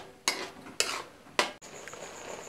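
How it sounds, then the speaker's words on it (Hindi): Milk and paneer stirred in a pan for kalakand, with three distinct scraping strokes of a spoon against metal, close and clear, and a faint sizzle in between. "हम इसे लगातार इसी तरीके से चलाते हुए पकाएंगे।"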